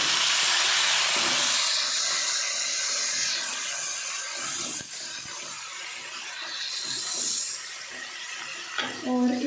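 Tomatoes dropped into ginger-garlic paste frying in oil for a bottle gourd curry set off a loud, close sizzle that stays strong, with some stirring clatter and a few clunks near the end.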